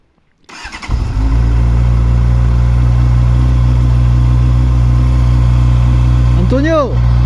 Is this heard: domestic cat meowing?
no